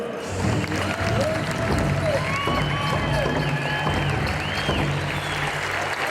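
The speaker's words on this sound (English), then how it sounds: "Big round of applause for Glenn Crooks." A large crowd gives sustained, steady applause during the grand entry at an indoor pow wow at Mall of America, with a wash of clapping, scattered cheers, some high whistle-like sounds and a voice speaking over it.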